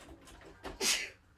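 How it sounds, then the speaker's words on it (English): A single sharp sneeze bursts out close by after a few short breaths, loud and brief against a quiet room. "Something has just set me off. I'm sneezing."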